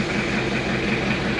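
A Chevrolet Luv diesel engine cranking and running after its glow plugs warm up, a steady loud low droning hum throughout.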